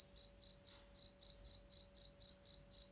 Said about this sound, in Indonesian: Oh, suara jangkrik kayak gitu.